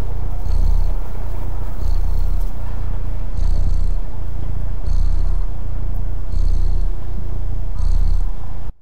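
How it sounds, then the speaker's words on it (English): Cat purring in the video game Stray, a loud, close, continuous rumbling purr with a steady in-and-out rhythm of about six cycles, heard alone before cutting off abruptly. "I was purring."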